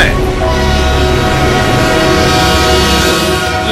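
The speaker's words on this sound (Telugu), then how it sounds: "లేమ్మా, ట్రైన్ వస్తుంది." A train approaches with a steady, loud rumble and a sustained horn-like tone throughout, the sound of a railway near a track where a drunk girl lies, with a voice in the scene.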